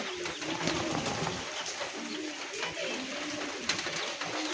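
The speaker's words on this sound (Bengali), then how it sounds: "দেখতে পাচ্ছেন দুই দুটো কবুতর" Several pigeons coo in soft, repeated throaty rolls, close by and continuous, with no talking.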